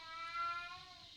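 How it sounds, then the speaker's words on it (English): An older cat meows once, a faint, drawn-out tonal call with a steady pitch, heard alone in a quiet room. "You know when you have an older cat and they just like to talk a lot?"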